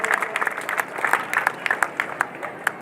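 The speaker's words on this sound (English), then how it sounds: "I ask you to applause for all these churches" A crowd at a refugee-welcome demonstration on Dam Square applauds, many hands clapping in a dense, steady patter with a few sharper claps standing out, sounding like a hall full of people.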